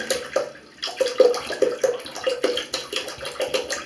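A litre of water being poured, a steady splashing trickle with a regular pulsing gurgle running throughout the short stretch, with no talking.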